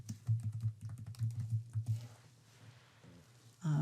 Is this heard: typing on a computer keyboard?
yes